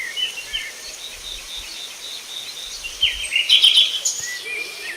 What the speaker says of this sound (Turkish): Onların ötüşlerini duyuyorsun sanki bir müzik gibi.